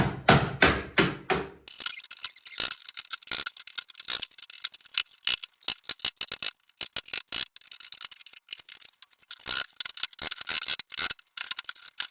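A 30-year-old Craftsman hammer beating on a wooden crate, heard as a fast burst of close blows followed by steady, sharp, irregular strikes, loud and with no voices.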